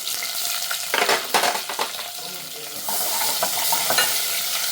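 Crushed garlic and onion fry in a pan for tomato saaru, a steady close sizzle broken by stirring clatter and scraping, then settling into an even, louder hiss.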